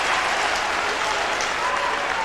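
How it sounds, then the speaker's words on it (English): Steady applause from travelling Ayr United supporters at a 1999 Scottish Cup replay against Dundee United, continuous and fairly loud, with no pauses. "he gets some well-earned applause from the travelling support"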